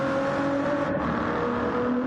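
A GT-class race car drives at Watkins Glen in a racing video game, its engine holding a steady, tonal drone with a slight shift in pitch partway through, loud and continuous with no talk on top.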